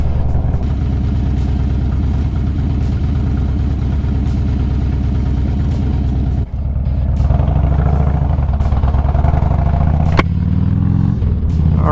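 A Harley-Davidson Street Glide motorcycle engine runs steadily and loudly close by for the whole stretch, a deep continuous rumble with a brief dip midway and slight shifts in pitch as it is ridden.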